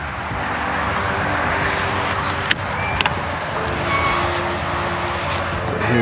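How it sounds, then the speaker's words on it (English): Steady road traffic noise hums continuously in the background beside an outdoor pool at a Texas RV resort, a broad constant roar with a few faint clicks on top. "And the road noise you hear behind me does go away."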